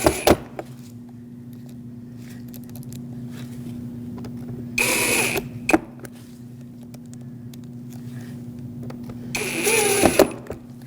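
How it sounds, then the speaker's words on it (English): Two short whirring bursts of a screwdriver drive screws back into the metal bracket inside a rear door of a 2006-2014 Lexus IS250, separated by a steady low hum and small clicks. "And put the 3 screws back on for this metal bracket."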